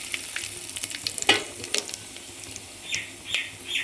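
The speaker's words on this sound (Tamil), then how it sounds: "இப்போ சோம்பு பட்டை கல்பாச்சி இந்த இதெல்லாம் போட்டு தாளிப்போம்" Fennel seeds, cinnamon and other whole spices tempering in hot oil for a vegetarian curry, a soft steady sizzle with a few sharp crackles and pops, fairly quiet and with no talking.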